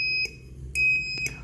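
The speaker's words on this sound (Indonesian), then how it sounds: "menghasilkan lampu dan buzzer yang akan menyala setiap setengah detik" An Arduino buzzer driven by an ultrasonic distance sensor sounds a shrill electronic tone in short beeps about half a second apart, clear and close against a quiet background.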